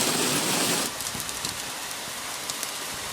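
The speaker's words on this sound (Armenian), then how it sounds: "տարել է հորդարատ անձրևն ու կարկուտը" Torrential rain and hail in Artashat, a loud hissing downpour that abruptly drops after about a second to softer scattered patter and drips.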